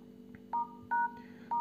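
Phone keypad tones as a secret code is dialed on a OnePlus Nord: a few short, clean electronic beeps spaced irregularly over a faint steady background, with no talking.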